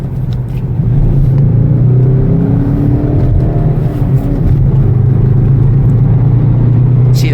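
A 2019 Skoda Octavia vRS engine roars at full throttle, a loud steady rumble that climbs in pitch as the hatchback accelerates hard, no talking.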